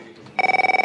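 A telephone starts ringing partway through, a fast electronic trill pulsing about a dozen times in under a second, loud and close.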